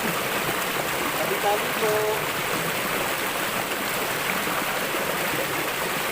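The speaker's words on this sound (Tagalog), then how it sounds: "Dito lang po ako sa may malakas na agos po dito sa maliit na falls." A strong river current rushes over a small waterfall near Cumba, Batangas, a steady loud wash of water throughout, with someone briefly speaking over it.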